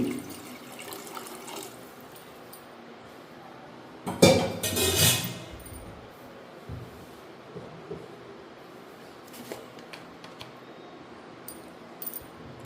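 Water splashes into a pot for soup in one loud burst lasting about a second, with quiet kitchen clatter before and after.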